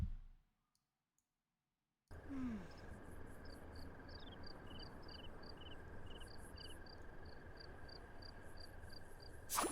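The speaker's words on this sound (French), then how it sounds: "Avec les petits grillons." After a brief silence, rhythmic crickets in The Sims 4 chirp in regular repeating pulses over a soft, steady ambient hum, with gentle clicking accents.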